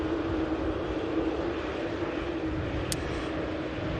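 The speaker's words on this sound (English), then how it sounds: "Lovely fresh coat of paint on this 2E Dreamliner. 787-8 coming in." A Boeing 787-8 Dreamliner airliner approaches Manchester Airport, a steady, distant broadband jet roar that holds at an even level throughout.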